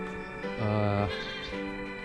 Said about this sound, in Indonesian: ini juga ada domba Garut